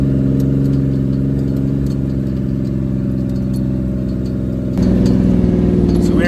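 A steady mid-pitched off-road vehicle engine drones while climbing the steep, snow-free Red Cone trail in the mountains, rising slightly in load near the end.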